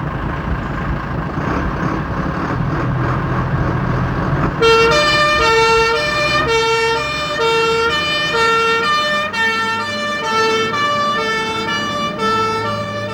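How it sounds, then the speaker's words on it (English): A fire and rescue pump engine runs with its siren going: a loud vehicle rumble at first, then a strong two-tone wail that cycles over the engine noise, close by. "The pump engine is the workhorse of the service."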